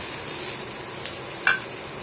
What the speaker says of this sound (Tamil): இன்னும் கொஞ்ச நேரம் ஃப்ரை ஆகட்டும்.